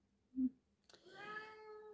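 A small house cat meows once, soft and close, followed by a brief click and then a faint drawn-out vocal sound.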